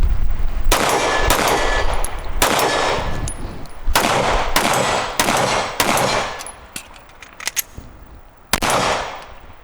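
A Smith & Wesson M&P 2.0 pistol fires a string of sharp, loud shots, about eight to ten close reports at an uneven, fairly quick pace, each cracking then ringing out, with a few faint metallic clinks between them.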